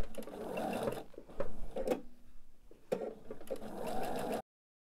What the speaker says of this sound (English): I'm going to sew a quarter inch on either side of the line